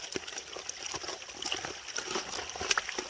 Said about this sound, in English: Okay, enough splashing.